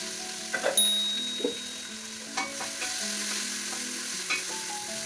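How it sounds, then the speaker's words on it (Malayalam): Sliced onion sautéing in a pan with ginger-garlic paste and green chilies, a soft steady sizzle broken by scraping stirs and a few sharp clinks of the spoon against the pan. "നന്നായിട്ടൊന്ന് ആ സവാള വഴറ്റിയെടുക്കുക"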